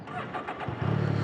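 Can-Am Ryker three-wheeled motorcycle engine cranking briefly and catching into a low, steady throbbing idle, close and fairly loud.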